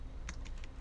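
A few soft, close computer keyboard key presses, including the tab key, quick clicks in a quiet room.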